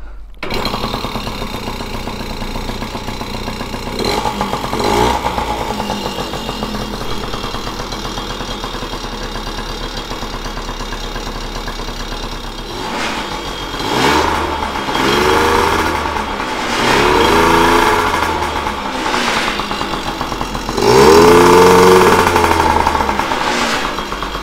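Yamaha PIWI mini motorcycle engine runs in a steady, buzzing idle, then revs rise and fall in a few short blips before settling back, close and fairly loud.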